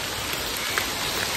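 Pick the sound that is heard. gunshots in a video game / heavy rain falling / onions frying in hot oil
heavy rain falling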